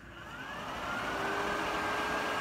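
An electric cooling fan on a Jeep 4.0 engine test stand spins up, its whirring hum rising and holding steady with a faint whine, fairly close and without talk.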